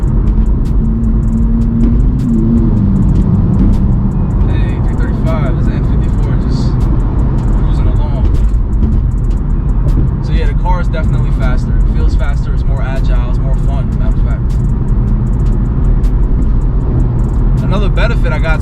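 A BMW M4 with titanium exhaust cruising at 60 mph in sixth gear on the highway, a steady low engine drone and road rumble throughout, with someone talking over it.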